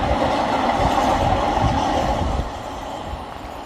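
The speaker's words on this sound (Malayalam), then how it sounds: "നല്ല വലിയ ട്രെയിൻ" A train rumbles past nearby with a steady, loud roar and faint rhythmic clatter, easing slightly toward the end.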